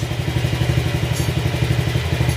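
A motorcycle engine with a fuel injector fault runs steadily up close, with a low, pulsing rumble and light mechanical clatter throughout.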